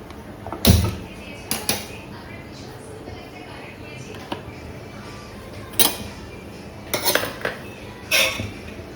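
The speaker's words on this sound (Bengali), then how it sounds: "কড়াই গরম করতে বসিয়ে দিই" A wok set down on a home kitchen stove to heat, with a few sharp metallic clanks and clatters of pots and utensils spaced through otherwise quiet room tone.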